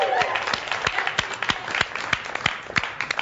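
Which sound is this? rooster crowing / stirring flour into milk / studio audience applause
studio audience applause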